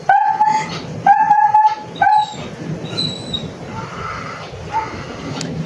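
A sick dog named Saver gives three short, whining bark-like cries in close succession, followed by softer, fainter whimpers in a quiet room.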